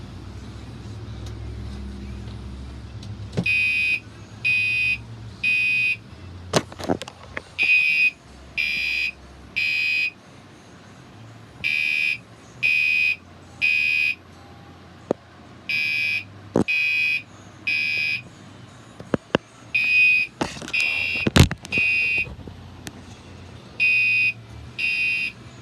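A fire alarm sounds in repeated bursts of high, steady beeping, grouped in regular on-off cycles across the whole stretch, with a few sharp knocks and low rumbles in between.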